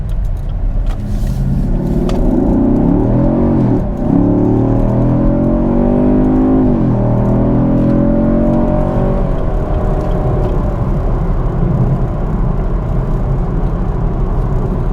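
A 2016 Chevy Camaro SS with an eight-speed automatic accelerates onto the highway, its engine climbing through rising revs and shifting before settling into a steady cabin drone and road noise.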